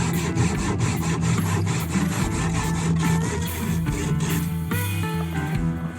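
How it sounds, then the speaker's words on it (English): A handsaw cuts wood for a cabin in rhythmic, rasping strokes, close and fairly loud. The steady back-and-forth pattern continues without talk. "that's a lot of cutting with a handsaw"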